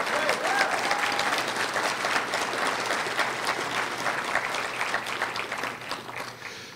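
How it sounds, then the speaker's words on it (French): Crowd applause during a French-language political speech by Thomas Mulcair, a full, sustained wash of many people clapping, steady and fairly loud for several seconds with a brief voice near the start. "vous pouvez applaudir"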